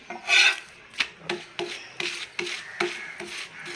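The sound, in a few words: rolling out chapati dough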